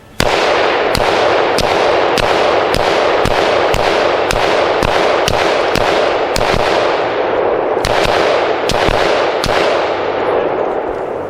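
Handgun fire on the SHOT Show 2017 range, with the pistol carrying a Holosun HS503C circle dot red dot sight. A string of about fourteen loud, sharp shots comes at a fairly even pace, with a short pause near the end.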